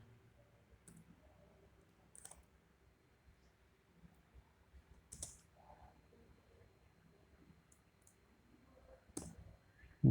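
Sparse, faint clicks on a computer keyboard, a few separated keystrokes spread over ten seconds against a quiet, hissy background.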